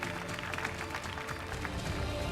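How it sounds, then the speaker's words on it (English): Award ceremony audience applauding to welcome the Minister of Industry and Commerce as chief guest, a dense, continuous wash of clapping from a large crowd at a steady, moderate level. "give him a round of applause, and show our appreciation"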